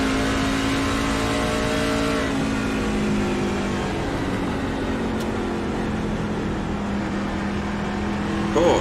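A racing pickup truck engine revs hard in fourth gear on an oval at Phoenix during a truck series race, a steady loud drone with shifting pitch and more engines droning beneath it.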